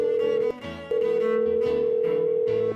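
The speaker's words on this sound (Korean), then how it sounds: "지금 당장 전화해서 알려드려야겠어요" A telephone call tone sounds in long steady beeps, each broken by a short gap, clear and close, with low background sound beneath.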